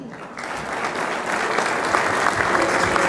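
An audience at a centenary ceremony for Villa Mitre bursts into sustained applause that swells and holds steady, dense clapping filling the room.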